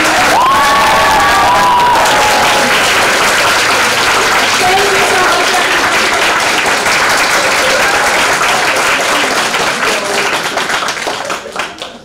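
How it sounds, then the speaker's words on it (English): Students applauding teachers and faculty at an annual Shakespeare monologue competition, loud sustained clapping and cheering from a large crowd in a hall, with a few shouts early on and the applause fading out at the end. "Students, will you join me in applauding Mr."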